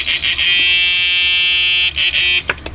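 A homemade power inverter runs under test with a loud, steady electric buzz and whine, holding constant with a few brief dips near the end.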